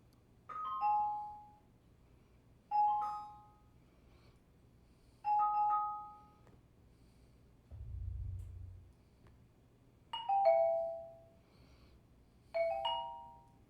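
Chime-like test tones from an AV receiver cycling through a 5.1 surround speaker setup, six evenly spaced descending ding notes a couple of seconds apart with a low thump from the subwoofer in between, clear and moderately quiet.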